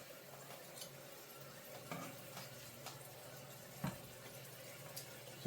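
Marsala chicken sizzling steadily in a hot pan just after being flipped, a continuous fine crackle of frying with a few faint clicks and scrapes of a utensil, quiet and close with no talking.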